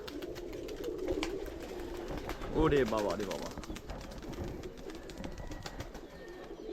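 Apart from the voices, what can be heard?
pigeons cooing as they leave the loft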